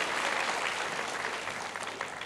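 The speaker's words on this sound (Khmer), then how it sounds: "Give the Lord a hand first." Dense, even applause from a church audience clapping for the Lord during a healing seminar, sustained at moderate level throughout with no talk.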